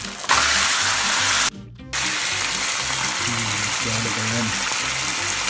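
Eggs fry in a pan alongside beans for a traditional English breakfast, a loud, steady close-up sizzle and crackle that drops out briefly and then resumes.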